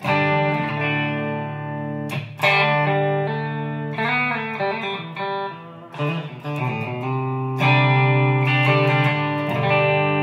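Electric guitar played through a wireless setup into a clean Twin Reverb amp tone, strummed chords and single notes ringing clearly with a touch of reverb, steady and fairly loud.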